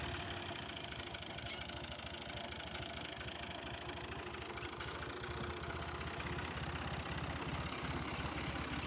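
A steady tractor engine drones continuously at a constant low rumble during a walnut harvest, close and unchanging throughout, with no voices.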